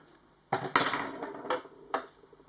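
A die-cutting machine bought from Action makes one cutting pass, giving a few sharp metallic clacks and rattles, close and clear, spaced over a couple of seconds with no talk.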